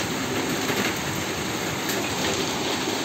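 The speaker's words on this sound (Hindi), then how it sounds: "और शुरू हो गया बारिश।" Rain beginning to fall under a darkening, cloudy sky, heard as a loud, dense, steady hiss and patter that stays constant and close throughout, with no voices.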